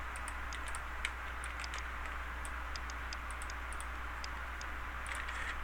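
Light clicks of typing on a computer keyboard while names are entered, scattered irregular taps over a steady low background hum, fairly faint and with no voices.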